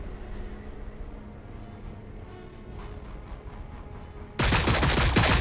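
In Warhammer 40k Battle Sector, a low rumbling battle din suddenly gives way to a loud, dense burst of rapid gunfire near the end, with no voices present.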